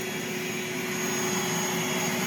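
A homemade bee vacuum drawing bees into a Layens hive box runs as a steady, loud whirring drone with a fixed whine, unbroken for the whole stretch and with no voices over it.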